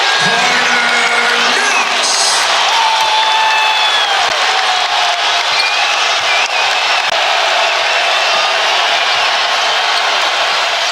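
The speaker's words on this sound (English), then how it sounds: "Huge crowd supporting Arkansas" A packed basketball arena crowd roars and cheers for Arkansas against Texas Tech, a dense, sustained wall of shouting and whooping that never lets up, with whistles and squeaking sneakers cutting through.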